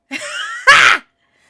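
Throat clearing after hard laughter, one short raspy burst followed by a sharper, louder harsh rasp, close and loud, ending in silence.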